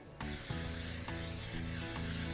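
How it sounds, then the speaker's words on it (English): Pam olive oil cooking spray hissing onto a metal surface, one steady close aerosol burst that starts abruptly and runs on unbroken. "I have a little Pam spray to hit the"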